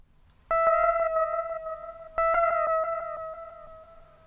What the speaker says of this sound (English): You can add noise into the echo.